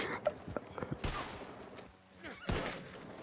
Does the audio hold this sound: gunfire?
yes